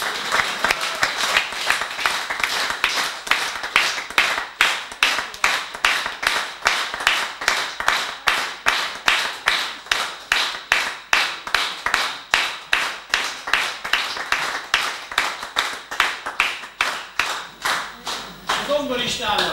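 An audience at a concert of songs by a Hungarian songwriter gives sustained rhythmic applause, with steady clapping in unison lasting nearly twenty seconds.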